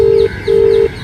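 Two long steady tones from a phone ringing back after dialing, each lasting about a third of a second with a short gap between them, loud and close with no talk.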